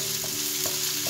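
Vegetables softening in olive oil in a pan give off a continuous, fairly quiet sizzle, with three light scraping strokes of a utensil at even intervals.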